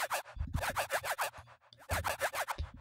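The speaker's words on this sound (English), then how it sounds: "This is yet another use of the granulator, but has some frequency shifter awesomeness going on." A granulated synth sound in Vital, run through a frequency shifter with its rate and amount turned up, gives off bursts of bright, sweeping, scratchy texture over a pulsing low end, stopping and starting with two short gaps.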